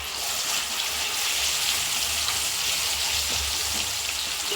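Chicken pieces deep-frying in hot oil, a steady, dense crackling sizzle that fills the whole stretch without pause, close by and fairly loud, with no talking over it.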